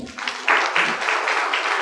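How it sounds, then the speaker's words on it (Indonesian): An audience applauds a man seated among them at a handwriting talk, a short burst of clapping at moderate volume that swells after a soft start and holds steady to the end. "Terima kasih tepuk tangan untuk Bapak ini."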